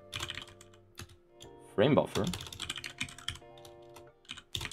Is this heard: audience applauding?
no